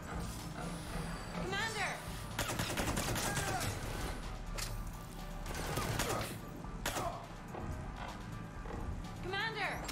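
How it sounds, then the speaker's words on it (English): Gunfire in Mass Effect 3 Legendary Edition: repeated bursts of shots and clattering combat noise throughout, loud and busy, with voices talking over it. "I'm kind of being shot at."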